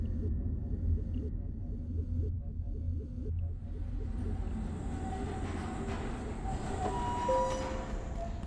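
A train passes in a video game, a continuous low rumble of rolling wheels with metallic squeals and rising high hiss as it goes by, heard alone.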